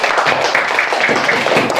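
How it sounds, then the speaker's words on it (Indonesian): Classmates applaud a student group in a classroom, a continuous, loud, dense patter of many hands clapping for under two seconds. "beri tepuk tangan buat kelompok 1"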